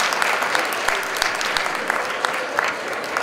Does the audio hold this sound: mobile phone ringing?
no